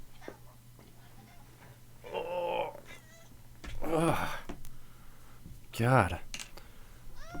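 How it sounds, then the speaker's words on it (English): A pet cat meows at a person indoors, with several distinct, drawn-out meows spaced a few seconds apart, close and moderately loud, with a voice talking around them. "what are you meowing at me for, buddy?"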